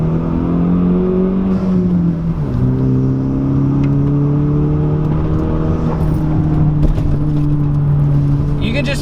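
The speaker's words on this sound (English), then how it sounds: "And you get whoosh noises all day long." A Hyundai Veloster Rally Turbo pulls hard under acceleration, its engine droning loud and close with a steady whirring note that dips once, as at a gear change, then climbs again.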